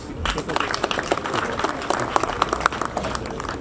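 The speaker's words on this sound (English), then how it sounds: "I would receive a hand clap for that." Graduation audience at a school of hygiene clapping, a lively crowd of handclaps with bursts and swells, mixed with speech and murmuring voices throughout.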